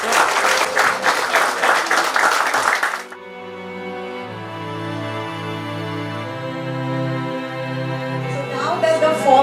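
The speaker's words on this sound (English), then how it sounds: "Round of applause, please." An audience at the inauguration of a UPSC coaching centre claps loudly for about three seconds, then the applause stops and soft sustained music with slow-moving tones takes over.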